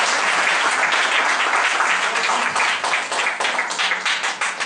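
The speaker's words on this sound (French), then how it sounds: "On acclame Jésus-Christ." A church congregation bursts into loud, sustained applause celebrating Jesus Christ, dense clapping filling the whole stretch and thinning slightly toward the end.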